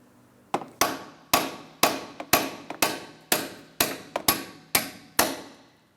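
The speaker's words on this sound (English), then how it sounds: "Now we're going to have to use a hammer. We're going to tap on this end." A hammer taps sharply on the splined axle mounting bolt of a 2004-2008 Pontiac Grand Prix, about a dozen times, close by, in an uneven rhythm with brief ringing after each strike.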